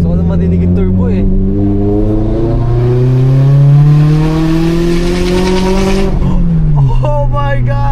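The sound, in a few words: turbo of boosted Subaru BRZ car on mountain road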